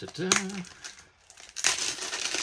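Filter papers handled for a moss sample in a classroom science activity, giving crinkly paper rustles in two bursts around a quiet gap, with a voice speaking over the first part.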